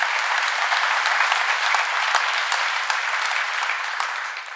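An audience at a community awards ceremony applauds, a loud, dense and steady wash of many hands clapping throughout, tapering slightly at the end.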